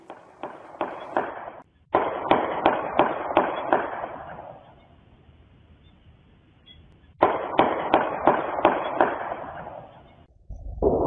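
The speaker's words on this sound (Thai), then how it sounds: "ภาพจากกล้องวงจรปิดใกล้กับจุดเกิดเหตุจะจับภาพไม่เห็นตอนยิงนะฮะแต่จะได้ยินเสียงปืน" Gunshots caught on a CCTV camera near a street shooting in Thailand, where six rounds killed a shrimp trader: bursts of sharp, evenly spaced cracks in two volleys, loud and echoing with a quieter gap between.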